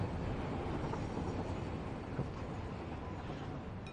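Train rolling along the tracks in the Satisfactory factory-building game, a steady broadband rumble heard close and alone, holding an even level throughout.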